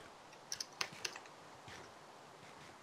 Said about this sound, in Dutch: Oké, Kelvin, ik hoor je nu typen, dus hou maar op.